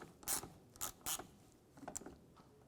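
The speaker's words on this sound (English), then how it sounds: "and tighten it down." A bolt on the fog light bracket of a 2004-2010 BMW X3 is tightened: a few close mechanical ratcheting clicks in short bursts, then a softer cluster of rattling clicks, with no talking.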